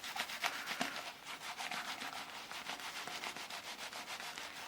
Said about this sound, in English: So you just keep rubbing and keep rubbing